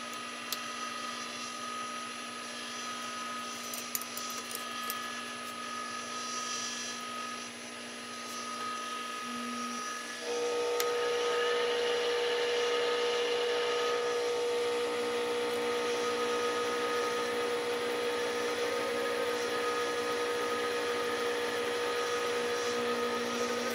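A metal lathe cuts a thread using the clutch, giving a steady mechanical drone with a constant hum that steps up louder partway through and then holds even, with no voices.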